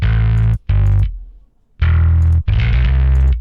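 A heavily distorted bass guitar tone built with free FL Studio plugins chugs in short loud bursts with abrupt choked silences between them, a gritty low-end riff in a thall style.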